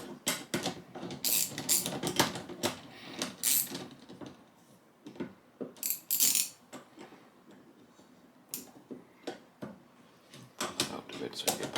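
A ratchet wrench works a bolt loose on a Lee APP press in the workshop, giving close clusters of mechanical clicks and clunks that thin out into scattered softer taps.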